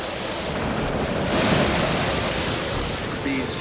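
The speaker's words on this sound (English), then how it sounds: "These humongous mountains of water were coming towards us." Heavy ocean waves and wind in stormy seas make a loud, continuous rushing roar that swells in the middle and gusts across the microphone.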